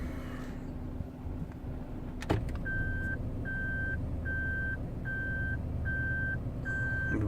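A Daihatsu car in reverse gear sounds a steady series of evenly spaced electronic beeps over a low idling hum inside the cabin, about six tones repeating at a regular pace.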